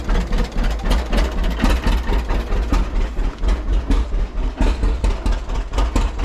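A 1935 John Deere A tractor's two-cylinder engine idling after 37 years unused, a loud, close, steady low chugging pulse with rough, even beats and no voices.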